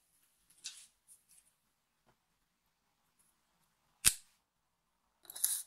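Memory wire being trimmed for a bracelet, a few quiet metallic snips and clicks spaced out against near silence, the sharpest cut landing about two-thirds of the way through.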